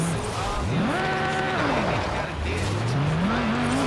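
Audi RS6 and RS3 cars racing in the video game Forza Horizon 5, loud continuous engine roar with pitch rising through gear shifts, tire squeal and a revving climb near the end, steady and close throughout.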